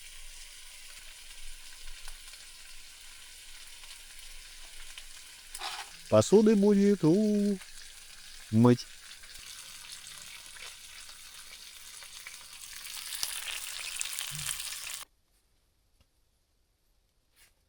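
Steak sizzles steadily in a pan on a wood-burning stove while camping alone overnight in a winter forest. A few sharp metallic clanks of cookware interrupt the frying, and a voice speaks briefly before the sound cuts to silence.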